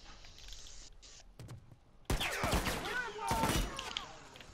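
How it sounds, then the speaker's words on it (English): Gunfire in The Last of Us multiplayer: after a quieter stretch, sharp loud shots burst out, followed by a second cluster of reports, with game noise and movement in between. "Somebody just shot at my head."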